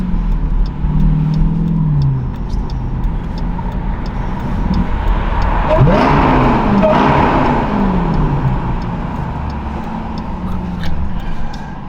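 2023 Dodge Durango Hellcat with a muffler delete, its engine revving loudly and close, exhaust note climbing and falling through several throttle blips over steady idle rumble.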